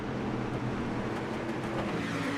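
Street stock race cars roar around the oval at Stafford Motor Speedway, a steady, fairly distant engine drone from the pack with no distinct passes standing out.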